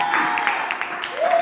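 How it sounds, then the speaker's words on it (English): Church congregation clapping hands in praise, a dense burst of applause filling the room, steady and fairly loud, with voices calling out over it. "Can we give God a hand clap of praise for my husband right there?"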